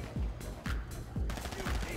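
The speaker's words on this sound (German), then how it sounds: "Warte mal, ich knall den ab." Gunfire in the GTA Online video game: several sharp, fairly distant shots in an uneven rhythm, each with a short falling tail, over low background noise.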